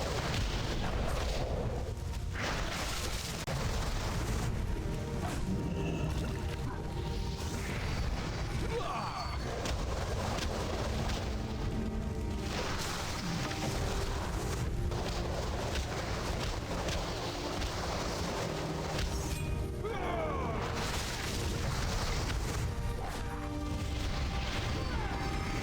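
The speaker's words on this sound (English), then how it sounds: "Stay out of this spellfire" Spellfire explosions and spell impacts from World of Warcraft: Mists of Pandaria combat rumble and boom continuously over a dense, loud battle mix, with heavy low-end blasts recurring throughout and some talk faintly underneath.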